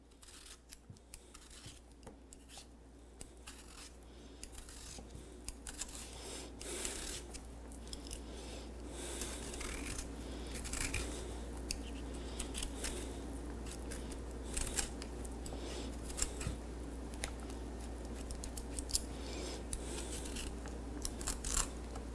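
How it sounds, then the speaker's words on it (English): A potato is peeled with close, quiet scraping and crisp rasping strokes that repeat irregularly over a low steady hum, with no talking. "so I'm just going to peel the potato."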